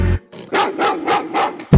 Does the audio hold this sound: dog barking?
yes